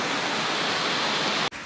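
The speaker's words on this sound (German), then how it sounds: "Und es gießt draußen wieder." Heavy autumn rain pours down outside in a dense, steady hiss that fills the whole moment, then cuts off abruptly at the very end.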